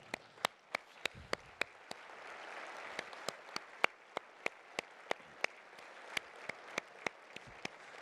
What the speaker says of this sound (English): Will our winners please stand and let's give them a big round of applause.